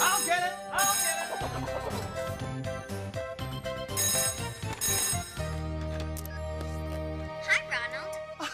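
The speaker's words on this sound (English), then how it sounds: "someone's calling on the picture phone" A picture phone rings with an incoming call in a cartoon: bright, repeated bell-like ringing tones chime in bursts over a busy musical backdrop, fairly loud and near.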